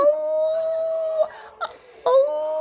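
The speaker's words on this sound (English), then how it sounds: "Can you howl like a puppy?" A six-week-old Parson Russell Terrier puppy gives a long, thin, steady howl, then breaks off into short yelps before starting a second howl, close and clear with no talking.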